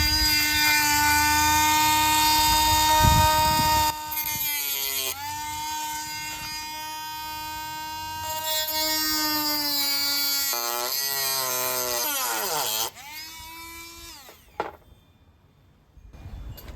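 Small low-powered Dremel rotary tool cutting into an antique oiler: a loud, close, high whine that dips and strains as it bites, stops and restarts several times, no talk.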